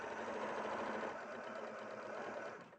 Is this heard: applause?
no